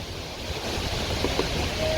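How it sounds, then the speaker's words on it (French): Strong storm wind blows over a beach with big waves crashing, a dense continuous roar of surf and gusts close to the microphone. "même au niveau de la plage, on voit des vagues qui sont énormes"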